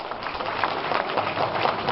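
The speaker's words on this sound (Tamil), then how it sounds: "இவ்வளவு கைத்தட்டல் எதுக்கு?" Audience applause at an organic farming training session, a continuous patter of many hands clapping at moderate loudness with a faint murmur beneath.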